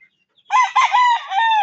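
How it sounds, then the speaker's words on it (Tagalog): A Roundhead gamecock crows once, loud and close, with a long wavering call standing alone after a moment of silence. "Gandang manok."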